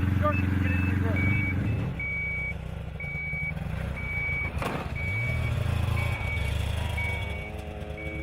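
A truck reverses with a steady, evenly spaced electronic beep repeating about twice a second over a rumbling engine, while people talk nearby.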